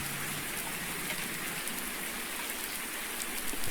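Steady rain in Farming Simulator 19 hissing down over a surface, a continuous dense wash of drops with no voices, holding level throughout.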